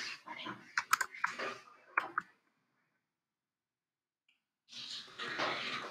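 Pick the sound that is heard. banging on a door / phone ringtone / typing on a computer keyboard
typing on a computer keyboard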